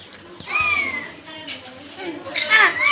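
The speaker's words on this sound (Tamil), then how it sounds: "எங்க பூனைக்குட்டி தான் சவுண்டு கேட்டுட்டே இருக்கு" A kitten meows several times in a home, high plaintive cries with a louder burst near the end, mixed with nearby children's voices and chatter.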